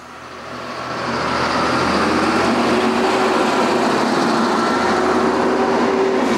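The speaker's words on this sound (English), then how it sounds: "I got trucks coming by." Trucks rumbling past outside during storm cleanup of downed trees and power lines, a steady low roar that swells in over the first second and then holds, with no talk.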